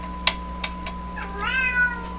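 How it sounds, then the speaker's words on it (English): A domestic cat meowing indoors near a tube radio workbench, a few short chirps followed by one longer rising meow, close and clear over a steady low electrical hum. "Hello, that's my cat."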